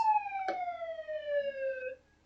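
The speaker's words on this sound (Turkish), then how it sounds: "Tamam arkadaşlar polis sireni koyuyoruz" A police siren fitted to a car in the MTA online driving game gives a single clean electronic wail that slides slowly downward in pitch for about two seconds before cutting off, loud and close with a brief click near the start.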